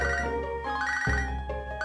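A short electronic phone ring chimes from the Pokemon HeartGold video game, a bright repeating ringtone heard alone and at moderate volume.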